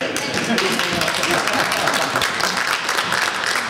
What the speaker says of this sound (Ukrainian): Гостей зустріли найціннішим оплесками.